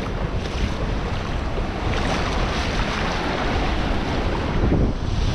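Strong seaside wind on a beach in Guadeloupe, a loud continuous roar buffeting the microphone, mixed with the wash of waves and no talking.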